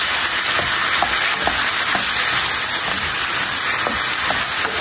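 Ong choy stir-fried in a hot wok with fish sauce, a steady loud sizzle and hiss throughout with faint periodic clinks of stirring.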